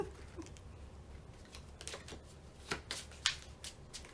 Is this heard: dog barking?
no